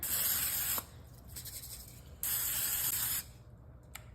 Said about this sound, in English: you gotta make sure to spray your pan.